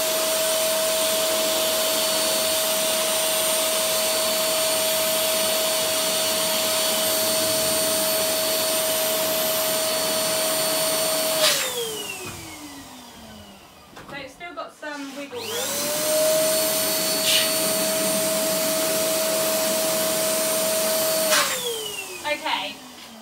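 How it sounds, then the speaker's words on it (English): Electric air pump inflating a large 32-inch purple and clear balloon, a loud steady motor whine that runs, stops abruptly mid-clip, then restarts and drones on again. "Not to use the pump for it all, because it will just pop."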